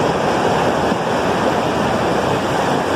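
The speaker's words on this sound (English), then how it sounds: "And the river, or the stream running down here." A stream runs beneath a small footbridge on the trail to Annette Lake, a steady, loud rush of water that fills the space with no pauses and no voices.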